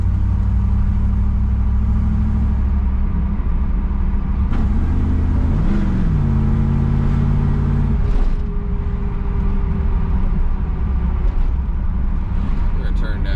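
A 1985 Chevrolet Camaro Z28 accelerating and upshifting too early, heard from inside as a steady low engine drone with pitch dips at each gear change, under a person talking.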